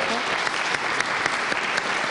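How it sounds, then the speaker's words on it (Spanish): Applause from a conference audience at an awards lecture series, a dense steady wash of clapping filling the whole moment without pause. "un gran aplauso para el doctor José Luis Orozco"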